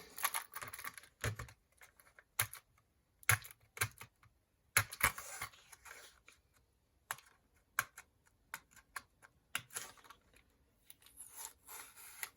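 Crinkling and scraping of plastic packaging as compartments holding Crossbreed broadheads are pried and peeled open, irregular close rustles and clicks with quiet gaps.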